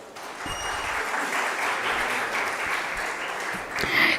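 A steady round of audience applause for a speaker at a biotech skilling programme session, even clapping that swells slightly at the end.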